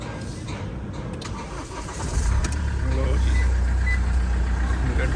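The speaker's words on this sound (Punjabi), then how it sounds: "ਗੱਡੀ ਆਪਾਂ ਸਟਾਰਟ ਕਰ ਲਈ ਹੈ ਜੀ" A car engine cranks and catches partway through on the road from a hotel toward Pushkar, then settles into a steady low idle while someone talks over it.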